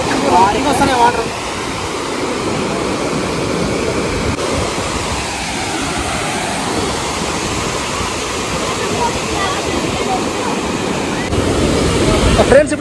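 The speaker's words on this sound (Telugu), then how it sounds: "వాటర్ వచ్చేసి ఇట్లా వస్తున్నాయి కదా, ఇట్లా తీసుకొని అట్లా పైకి ఎగిరిన తర్వాత ఆడ పడుతున్నాయి కదా" Water gushes through the opened gates of a large dam, a loud, steady roaring wash with outdoor wind buffeting, heard up close for the whole stretch.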